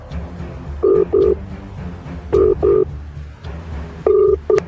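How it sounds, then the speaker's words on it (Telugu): A phone call to a politician being placed, with several short pairs of ringback tone pulses at even intervals, moderately loud, over a faint background murmur. "మనం మందుల శామ్యుల్ గారికి ఒకసారి కాంటాక్ట్ అవుదాం."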